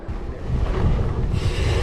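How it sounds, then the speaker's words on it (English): Steady wind roaring and buffeting the microphone, a constant low rumble with a brighter hiss that swells near the end, no voices. "Oh, it's really windy, chaps."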